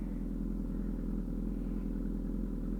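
A motorcycle fitted with a dyno-tuned Black Widow full exhaust, rumbling steadily close by with a low, continuous engine note and faint crackle, heard alone without talk.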